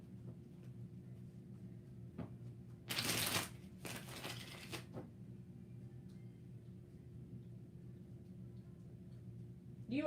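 Tarot cards shuffle in two quick riffling bursts, each about a second long, over a quiet low electrical hum, with faint taps and handling sounds around them.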